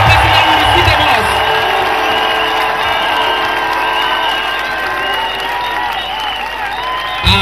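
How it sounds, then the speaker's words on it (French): A congregation at an evangelistic crusade in Mbouda claps and cheers loudly and continuously, a dense wash of applause with whoops and shouts that stays strong throughout with no pause. "Clap for our Lord Jesus Christ."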